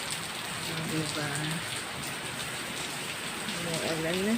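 Steady light rain patters down in a warm setting, a soft continuous hiss of drops on surfaces, while a voice speaks quietly in the background now and then.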